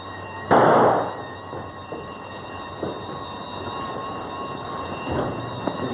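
A single sharp gunshot-like bang rings out near the start in a 1933 film serial scene, followed by a steady background rumble and a few faint knocks.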